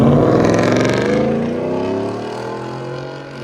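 A Ford F-150 with a 5.0L V8, a Corsa performance muffler and the resonator deleted gives a deep, loud exhaust drone that falls off and fades as the truck pulls away.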